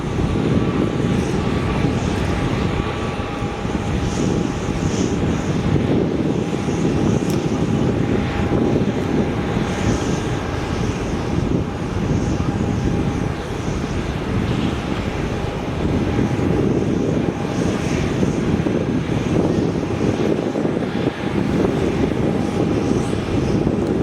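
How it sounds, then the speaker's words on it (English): An old airliner in former livery, with rusted cargo doors, roars steadily at Melbourne Airport, a loud continuous broadband engine rumble and whine close by, mixed with wind buffeting, with no talking. "it looks like a pretty old plane with the rusted cargo doors"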